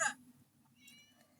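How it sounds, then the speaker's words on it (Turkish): A cat meows once in the Angry Teacher video game, a short soft call set over quiet background game ambience. "Tam kedi yanımda."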